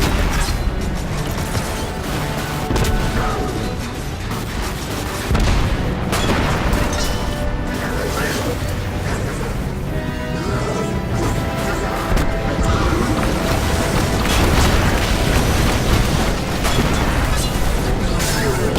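Tank cannon fire and heavy explosions in the Destiny 2 video game, dense and loud booms and crashes rolling continuously with voices talking over the barrage.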